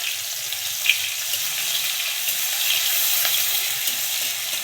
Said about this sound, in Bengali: রসুন, কাঁচা লঙ্কা আর কালো জিরাটাকে দিয়ে আমি ফোড়ন করে নিচ্ছি।